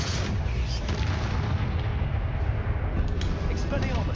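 Confringo blasting-spell explosions in the Hogwarts Legacy video game form a dense, continuous rumble of booms and bursts, loud and sustained, with a voice speaking over it.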